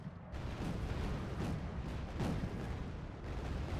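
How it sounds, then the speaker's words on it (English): Artillery fire in the real-time strategy game Wargame: Red Dragon: a dense, continuous rumble of muffled booms with a few stronger blasts rising out of the roar, no voices. "they're firing artillery at me"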